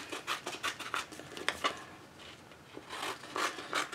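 Scissors or a cutting tool trim around a vinyl decal and its transfer tape, giving quiet, close rustling and scratchy rubbing strokes in uneven bursts with brief pauses.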